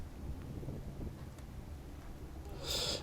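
Wind blows across an outdoor tennis court, a steady rumbling buffet with a brief stronger gust near the end.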